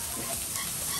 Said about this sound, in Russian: Здесь жарят гриль.